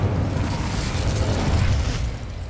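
In the Hogwarts Legacy video game, an Incendio fire spell goes off with a loud rumbling whoosh and burst of flame that holds steady for a couple of seconds, with no voice over it.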